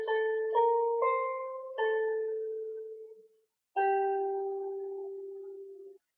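Solo piano plays the closing phrase of a song, a short run of single notes then a held note, a pause, and one final sustained note ringing out; quiet, close and without talking.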